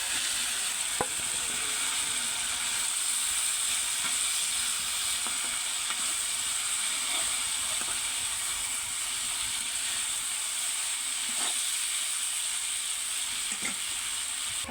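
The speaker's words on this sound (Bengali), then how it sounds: "এখন মশলাগুলো কষিয়ে এখন মাছগুলো দিয়ে দিলাম।" Fish sizzling and frying in a pan of spiced masala with onions, a steady close hiss with occasional sharp pops and stirring clicks, no voices.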